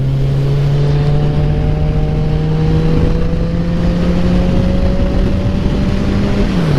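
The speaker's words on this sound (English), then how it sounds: "Release throttle. Pull clutch lever in. Kick up to third." Motorcycle engine droning loudly and close, its pitch climbing steadily as the rider holds the throttle, then dropping sharply near the end as the rider backs off for a gear change.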